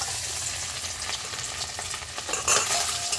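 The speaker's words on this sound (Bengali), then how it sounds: "বন্ধুরা এই নারকেলগুলো আমি ভেজে নেব।" Coconut pieces frying in hot oil while cooking doi echor, a steady close crackling sizzle with light stirring scrapes, brief louder bursts of spatter near the end, no talk.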